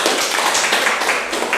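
Classroom applause during a teacher's lesson practice, a dense continuous patter of many hands clapping close by for under two seconds, no voices over it.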